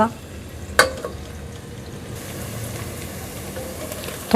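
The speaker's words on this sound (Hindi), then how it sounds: "सबसे पहले हम इसमें ऑयल डालेंगे, प्याज, इस टाइम मैंने आंच तेज़ रखी हुई है, तेज़ आंच पे मैं इसको फ्राई करूँगी।" Chopped onions fry in oil over high heat, making a steady close sizzle with a sharp clatter of a utensil at the start and again at the end.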